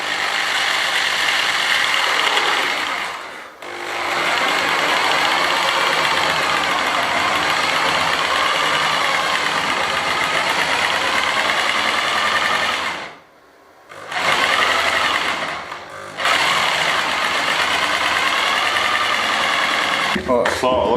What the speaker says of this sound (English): I'm just going to gently try and follow it with the jigsaw.